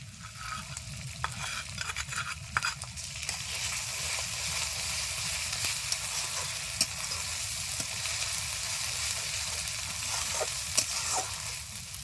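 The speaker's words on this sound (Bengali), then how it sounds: "বাটা মশলাটা দিয়ে দিচ্ছি" Ground spice paste frying in a pan for a chicken curry with capsicum and chui jhal, a steady loud sizzle with scattered stirring scrapes and pops throughout.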